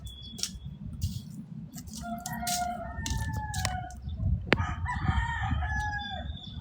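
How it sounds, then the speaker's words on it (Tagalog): A rooster crows a few times at a moderate distance over a low outdoor rumble, with other birds chirping and clucking around it. "No, may manok doon."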